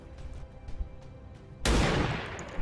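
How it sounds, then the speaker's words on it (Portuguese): A single gunshot in the video game XCOM 2, played on Commander difficulty, bursts out loud and sharp after quiet in-game ambience, then trails off into a rough, decaying rumble. "4 de dano, ótimo tiro."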